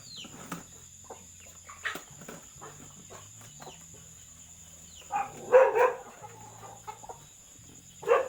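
A chicken at a backyard coop clucks in short bursts, sparse at first and then louder in a cluster of calls, with quiet pauses between them.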